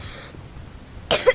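A single sharp cough near the end, short and close, following a quiet stretch of faint background hiss with a second small burst right after.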